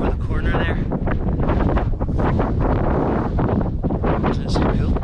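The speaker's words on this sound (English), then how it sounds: "That northerly wind keeps it cold" Cold northerly wind buffeting the microphone on a Mourne Mountains hiking trail, a loud continuous roar with gusty surges throughout, and someone talking underneath.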